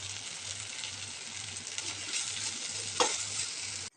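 Red poha upma stirred while frying in a pan, a continuous close sizzle with scraping spoon strokes and a sharper clink near the end.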